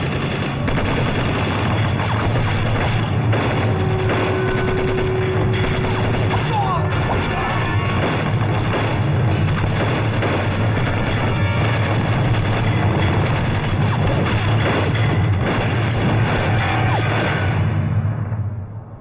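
Dense gunfire and explosions rage in a Chinese anti-Japanese war film battle scene around an enemy blockhouse: loud, continuous booms and rapid volleys pound without pause for the whole stretch before cutting off abruptly.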